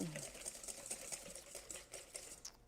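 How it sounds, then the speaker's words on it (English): A raw egg is being whisked with sweetener in a bowl, giving a quick, soft run of repeated tapping and scraping beats that stays close and fairly faint. "I'm just going to whisk that up just a little bit."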